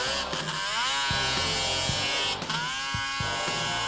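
Several 700cc snowmobiles race up a steep snowy mountain hillclimb course at the Jackson Hole World Championship Snowmobile Hillclimb, 1998, their high two-stroke engines whining loud and near, pitch rising and falling with throttle blips and revs.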